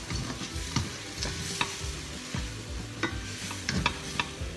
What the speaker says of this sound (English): Then, we mix it together like this.